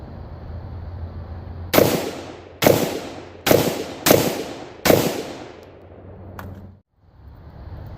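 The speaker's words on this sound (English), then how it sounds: "Okay, so there's your 5 shots." Five rifle shots from a 5.56 rifle fitted with an A2 flash hider, sharp, loud reports spaced roughly a second apart, each trailing off in a short echo, followed by quieter outdoor rustling.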